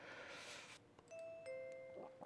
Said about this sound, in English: I hear the sound of the doorbell from the entrance.